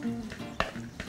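Conch tartare with finely chopped onions, local onion and chopped parsley being stirred together in a bowl, a soft wet mixing and scraping over about a second, with a brief clink near the middle.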